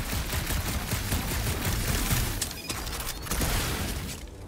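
Dense bursts of gunfire fill the stretch, a rapid stream of shots aimed at a contraption in the Guardians of the Galaxy video game, with mechanical clatter mixed in and a brief drop near the middle.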